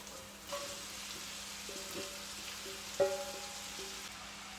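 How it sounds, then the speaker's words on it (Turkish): Fresh spinach hitting a hot pan for a Turkish spinach börek filling, giving a steady low sizzle and hiss with a few brief clatters and a sharper knock near the end, fairly quiet and without talk. "Daha sonra şöyle ıspanağı ekliyoruz."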